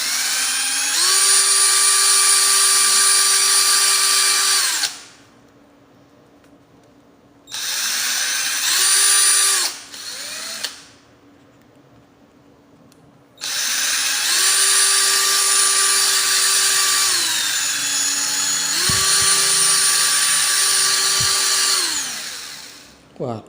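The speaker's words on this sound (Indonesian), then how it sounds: "Ini seperti ini, kita bor." An electric drill whines in long bursts while boring a hole, pitch climbing as it spins up and dropping as it bites, with short pauses between runs.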